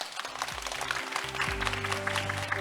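Applause from the audience at a national startup pitching audition after a presentation, moderate clapping over background music tones, fairly distant.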